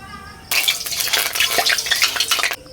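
Oil poured into a hot pan before frying pangas and tengra fish bursts into a loud, crackling sizzle that starts abruptly and holds steady for about two seconds before cutting off.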